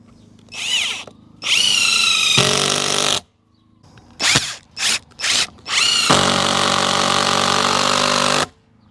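A power drill drives screws into a fence outdoors: loud whirring bursts of varying length, one short, then two long runs, a cluster of quick stop-start pulses, and a final sustained run, each ending abruptly.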